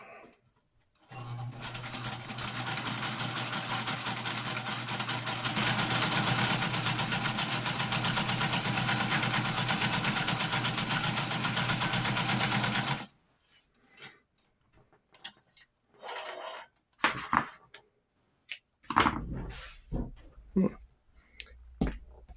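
An Amarko Model 950-B sewing machine stitching in a fast, steady mechanical rattle for about twelve seconds, then stopping, followed by scattered clicks and handling noises.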